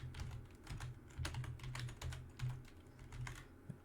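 Fingers type on a computer keyboard, entering a search into a web browser: a quick, steady run of close, light key clicks with no voices.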